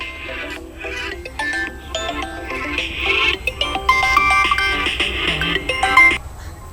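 A phone ringtone plays a bright, repeating electronic melody, fairly loud and close, running for several seconds before cutting off.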